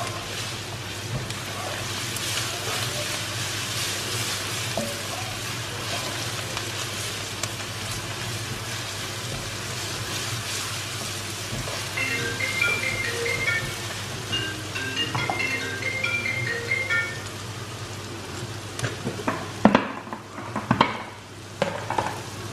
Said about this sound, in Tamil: இஞ்சி பூண்டு பேஸ்ட் போட்டு கொஞ்சம் வதக்கி விடுங்க